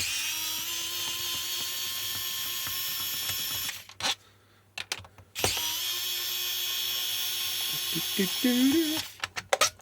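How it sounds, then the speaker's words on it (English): A small AliExpress screwdriver backs Phillips screws out of an old Oxygen Emate battery case, its motor whirring steadily in two close bursts separated by a short quiet pause, ending with a few brief clicks. "I'm using my surprisingly not awful AliExpress screwdriver here"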